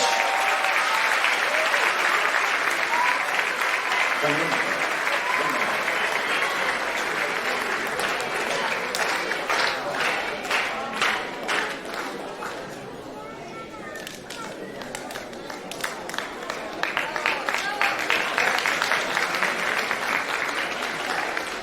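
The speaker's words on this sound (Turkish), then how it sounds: "Bir alkış." Sustained applause from a crowd fills the space, dense clapping that thins briefly midway and then swells again, with a voice speaking over it.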